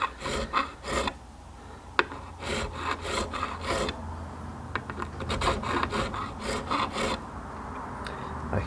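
A file strokes across guitar fret tops to reprofile them, repeated rasping swipes in quick uneven bursts, close and clear with brief pauses between passes.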